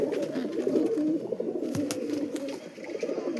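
Teddy pigeons coo softly and repeatedly at close range, with low rolling calls that overlap and continue throughout. Faint background clatter sits underneath.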